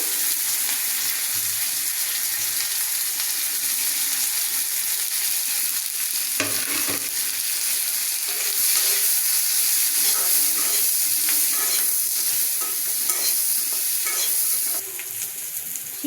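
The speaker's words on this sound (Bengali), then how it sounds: "এই যে সবজিগুলো একটু হালকা ভেজে নেব এই যে সাথে ক্যাপসিকাম দিয়ে দিলাম পেস্ট দিয়ে দিলাম" Mixed vegetables with capsicum and paste fry in a pan for a mild dish with chicken liver; a steady, close sizzle runs throughout with faint stirring scrapes and no talking.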